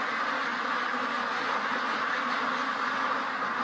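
A sick, trapped duck near a feeder, part of a dense, continuous wash of quacking and bird noise that holds steady and fairly loud throughout, with no voices.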